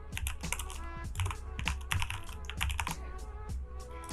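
An email address is typed on a computer keyboard: quick, uneven bursts of close key clicks with short pauses, fairly quiet, no talking.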